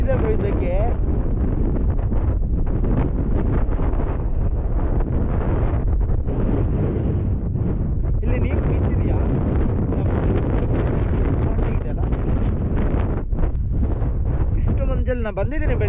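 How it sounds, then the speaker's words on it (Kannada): Strong wind blows across the Kote Betta hilltop, buffeting the microphone in loud, continuous rumbling gusts while someone talks over it. "ಗಾಳಿನ ತಳ್ತಿದೆ ಬ್ರೋ."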